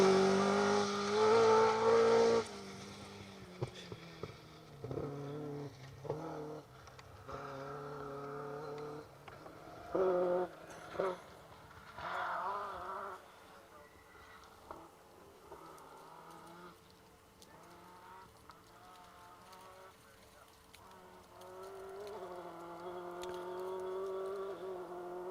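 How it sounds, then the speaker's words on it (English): Rally car driving a stage at the Nicky Grist Stages, a BTRDA rally round, its engine note rising and falling loudly through gear changes, with no voices. "That is a great sounding car, isn't it?"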